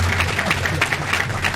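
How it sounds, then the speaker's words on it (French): An audience at an Excellencia scholarship launch event bursts into sustained applause, dense steady clapping filling the room throughout. "Est-ce qu'on peut applaudir encore une fois pour Blas?"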